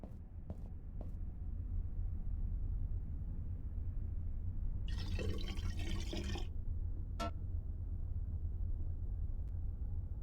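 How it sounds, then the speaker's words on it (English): Water running into a kettle in the adventure game Black Mirror II, a steady soft pour of about a second and a half over a low background hum, set among a few faint clicks and ticks. "The kettle's full."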